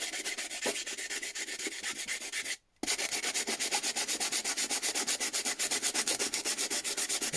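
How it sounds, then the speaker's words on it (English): Steady back-and-forth sanding strokes rub over a wooden steampunk junk journal box, a fast even rhythm of close, raspy scrapes that pauses briefly for a moment before resuming, with no talking. "just turn the volume down if you want to hear the sanding noise"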